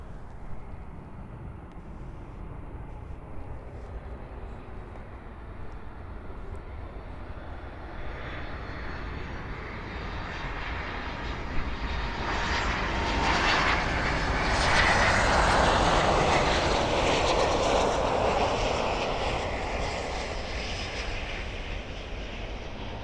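Airplane on landing approach to runway 7 at Miami Airport, a broad steady engine roar that slowly builds and swells as it passes overhead, then eases off; continuous and fairly distant at first, no talking.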